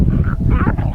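Dogs at an outdoor bow-shooting session make a loud, close vocal sound, a short whiny bark-like cry lasting about a second.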